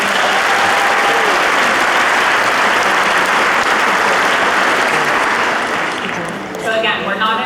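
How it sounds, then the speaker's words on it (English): Audience applause at a naturalization ceremony in Oakland, California: dense, loud, sustained clapping from a large crowd that fades somewhat near the end. "So let's give them a round of applause."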